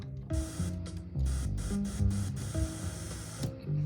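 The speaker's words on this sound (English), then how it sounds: "You can even make like hi-hats and things just by using white noise as a sound source" Bursts of broadband white noise from a modular synthesizer noise source cut in and out rhythmically over low synth tones, short noise hits alternating with sustained static-like noise, close and fairly loud.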